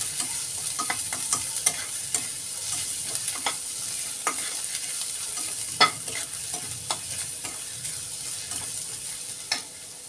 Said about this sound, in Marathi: ते पण छान मिक्स करून घेऊ आणि परतून घेऊ त्याच्यामध्ये